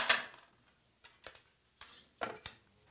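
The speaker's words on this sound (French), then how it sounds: "Et là, on vient couper l'excédent de pain." Bread trimmed from a sandwich clamped in a Toas-Tite sandwich grill, a series of five or six short scraping, clicking cuts spaced irregularly, close and crisp against quiet.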